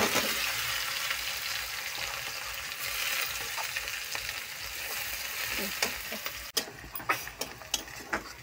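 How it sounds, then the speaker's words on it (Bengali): Onions fry in a pan with a steady, close sizzling hiss, then a sharp clank and a run of rhythmic spatula taps and scrapes as they are stirred toward the end, with no talk. "পেঁয়াজটা কিন্তু আমি লাল লাল করে ভেজে নিব।"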